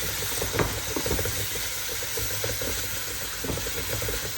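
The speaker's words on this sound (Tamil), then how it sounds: "வெங்காயம் நல்லா வதங்கிடுச்சு" Onions salted and sautéing in a pan for a chicken curry, a steady broad sizzle with a few soft utensil knocks near the start, continuous and close with no talking.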